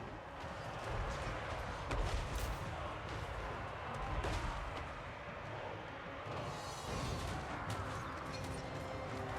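Video game battle gunfire crackles in fairly steady bursts through the clip, with heavier booming shots near the start and middle, all at a moderate distance under a busy mix.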